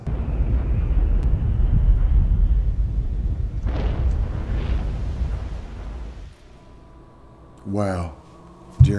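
A steady roar of aircraft engines dominates for several seconds, then fades, followed by brief radio-style speech near the end.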